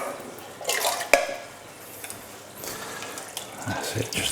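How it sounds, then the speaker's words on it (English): Water from a tap runs briefly into an emptied tin of tomatoes to rinse it out in a home kitchen, a short splashy trickle with faint clinks and drips, no talking. "put a little tiny bit of water in there"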